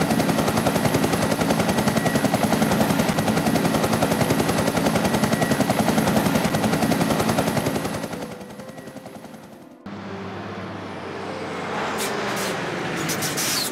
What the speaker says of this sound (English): Air ambulance.